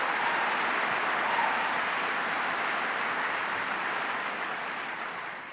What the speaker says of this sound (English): Please give Mike a big round of applause.